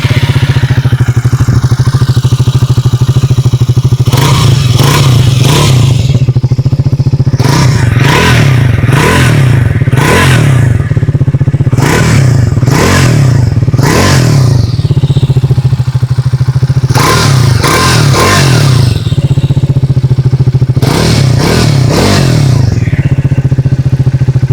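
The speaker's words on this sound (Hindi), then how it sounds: "पहले थ्रस्टन 400 की एग्जॉस्ट नोट सुन लेते हैं।" Triumph Thruxton 400 motorcycle with its exhaust note rising and falling through repeated throttle blips over a steady idle, close and loud, in several bursts with brief pauses, no talking.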